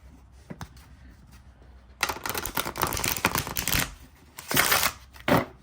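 A linen-finish cardstock tarot deck gets riffled and shuffled up close, with light taps at first, then two bursts of crisp, rapid flapping card noise separated by a short pause.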